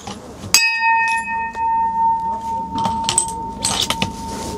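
Bullets strike steel gong targets at a long-range shooting competition, leaving a clear metallic ring that lingers after a sharp first hit, with a few fainter clanks and brief noises following.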